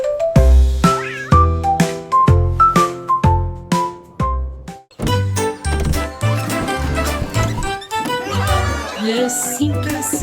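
Cat meows sung in a French children's nursery song, repeated meow-like tones following a bouncy musical rhythm, loud and close over bright accompaniment.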